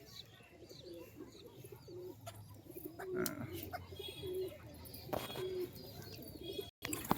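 Highflyer pigeons coo repeatedly at a home loft. The soft, rolling coos recur every second or so at moderate distance, with faint background noise and a little talk.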